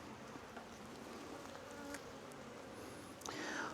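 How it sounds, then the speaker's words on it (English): Honeybees buzz in and around a hive during an inspection, a dense, steady close-up drone with individual bees flying past the microphone. "Lots of bees are in the way."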